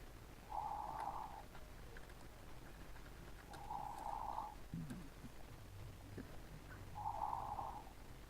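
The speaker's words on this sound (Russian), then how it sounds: "хватит храпеть" A person snores faintly and rhythmically, with three breathy, buzzing snores spaced a few seconds apart and a brief low snort between them, all over a quiet background hiss.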